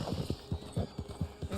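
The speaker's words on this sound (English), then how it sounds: "My horse is just going crazy because of the wolves." Horse hooves clip-clop in a quick, uneven rhythm on the ground in the Red Dead Online video game, close and moderately loud, with a horse agitated by nearby wolves.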